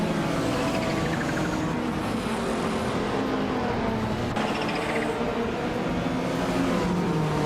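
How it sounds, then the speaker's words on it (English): A pack of 1993 Porsche 968 race cars roars off the line at a Goodwood race start in a racing video game, engines droning loud and steady with a rising revving sweep as they accelerate away. "the race just kicked off at Goodwood, and Amy is on pole in a classic 1993 Porsche 968"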